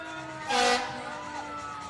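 Jefferson Fire Department trucks in a Charleston Christmas parade sound a loud horn or siren blast with steady tonal wails around it, close by for the whole short stretch.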